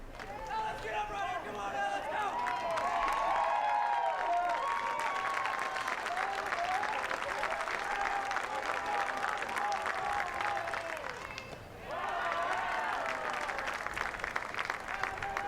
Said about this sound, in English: There's a good crowd, people on their feet, rhythmic clapping